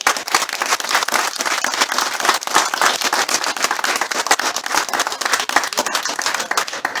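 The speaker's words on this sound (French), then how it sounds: "je demande vraiment de les applaudir encore plus fort" Loud, close applause from an audience at a dog trial awards gathering, sharp dense clapping with crisp individual claps standing out, sustained at full strength without pause.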